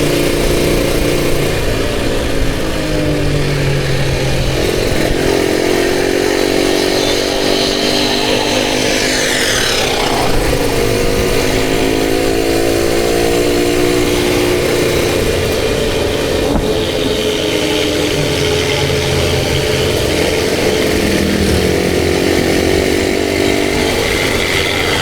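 Suzuki Satria two-stroke motorcycle engine ridden through city traffic in Tasikmalaya, a loud continuous buzzing drone with rising and falling revs through gear changes, close and steady throughout with no talk.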